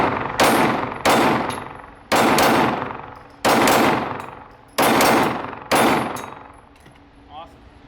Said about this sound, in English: All right, let's shoot one more mag.